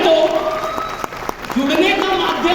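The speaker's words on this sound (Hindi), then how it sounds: "तालियां बजाइए" Applause from the audience at a motivational speaker's talk, clapping mixed with a voice speaking over it, fairly loud throughout the short stretch.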